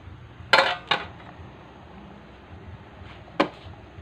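A metal lid set onto a cooking pot, giving two sharp clanks close together, then a lone clink a few seconds later, crisp and near against a quiet background.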